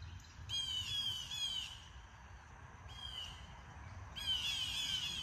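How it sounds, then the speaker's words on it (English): Harsh, raspy squawks from a blue jay and a northern cardinal in a territorial dispute come in three bursts with quiet gaps, fairly faint and at a distance, over a low background hum. "That was the blue jay and a northern cardinal having a little territorial dispute"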